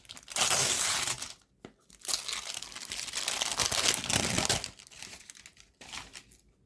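Plastic packaging around an oracle card deck is torn and crinkled open, a loud run of crackling and ripping with brief pauses, close up and with no one talking.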